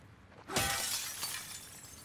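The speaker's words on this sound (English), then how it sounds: "I love smashing shit, I really do." Glass shatters in The Last of Us Part II, a single sharp smash followed by a short spray of tinkling shards that fades quickly, heard alone and fairly clear.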